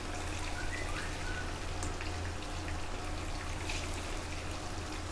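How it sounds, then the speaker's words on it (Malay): Chicken frying in a wok with turmeric powder and salt crackles and spatters in a dense, steady patter like rain, continuous and fairly close, with no talking. "Kita goreng bersama dengan sedikit kunyit serbuk dan garam."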